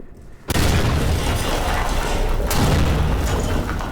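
A video game pocket barrel goes off in a loud, close blast after a brief quiet start, followed by a sustained roaring rumble and debris as several doors are blown apart.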